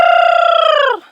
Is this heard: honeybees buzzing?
no